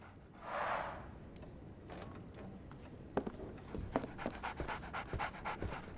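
A dog pants in the Sherlock Holmes The Awakened video game, with a short burst of breathing up close early on, followed by a run of light footsteps and taps.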